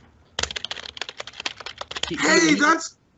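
Rapid typing on a computer keyboard, close and crisp, with a dense burst of clacking keystrokes ending in a louder flurry, then stopping.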